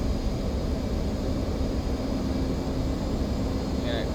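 F/A-18C Hornet jet engine on afterburner in the DCS combat flight simulator: a steady, loud, broadband roar that holds unchanged throughout.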